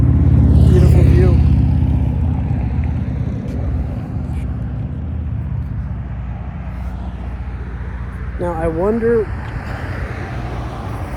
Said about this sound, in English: oh wow, there's so many cars here.